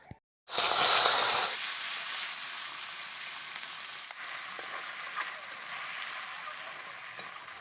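More salted, turmeric-coated khalshe fish drop into hot mustard oil in a kadai, bursting into a loud hiss that settles into a steady, bright sizzle running on without voices.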